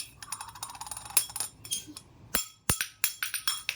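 A small child at home throws a lid onto a hard floor, producing a run of sharp metallic clinks and clatters, several close bangs in quick succession among quieter rattling taps.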